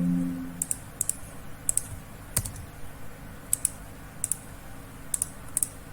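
Computer keyboard keys pressed while working in Photoshop, a few scattered crisp clicks spread unevenly over several seconds, some in quick pairs, close and fairly quiet over a low background hum.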